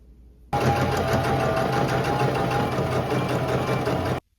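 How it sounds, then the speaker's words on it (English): Sewing machine stitching stretched elastic onto a thrifted top as an alteration, running steadily and loud at close range for about four seconds after a quiet start, then stopping abruptly. "And I'm going to stretch the elastic while I sew it."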